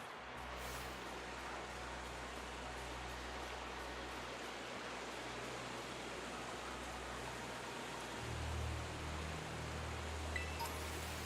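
A waterfall in the video game Pokemon Violet produces a steady, faint rush of falling water, continuous broadband noise with a low rumble swelling slightly near the end.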